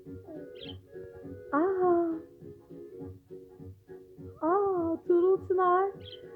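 Pet budgerigar perched on a child's hand giving short chirps and warbling calls in a few bursts, close by, with people talking softly around it.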